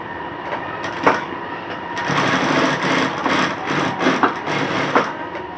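A sewing machine stitches along a zipper chain in steady bursts of motor whir and needle clatter, close and fairly loud, with no talking.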